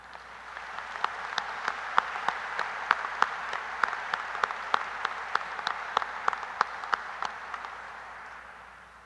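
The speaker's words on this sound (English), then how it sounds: "I'd like to give him a very large round of applause for all these efforts." Audience applause at a Northern State University spring commencement ceremony, a steady wash of many hands clapping with distinct sharp nearby claps standing out, fading slightly toward the end.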